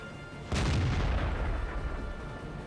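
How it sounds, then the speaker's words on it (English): In World of Tanks, an artillery shell strikes a tank with a sudden heavy boom about half a second in, followed by a deep, rumbling decay that lingers to the end, with no speech. "And artillery nails him."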